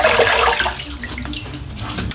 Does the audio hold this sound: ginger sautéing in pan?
no